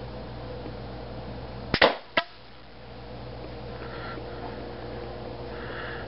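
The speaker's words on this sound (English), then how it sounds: "And here's a chronographed shot." A single sharp air gun shot from a two-stage Ion bolt at roughly 120 PSI cracks out, followed by a quick second click, against a faint steady background hiss.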